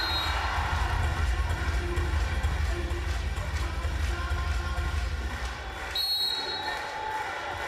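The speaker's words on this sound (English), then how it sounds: "the crowd goes wild" A crowd at a Texas vs. Marquette NCAA volleyball regional semifinal roars wildly and continuously, with a dense, loud wash of cheering and a couple of high whistle-like squeals.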